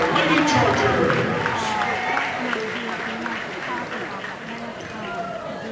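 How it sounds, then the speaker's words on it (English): Crowd applause fills a high school basketball gym honouring the Oxford Lady Chargers' 2013 senior players and managers, loud and sustained, with people talking over it. "how about a big round of applause for the 2013 senior players and managers for the Oxford Lady Chargers"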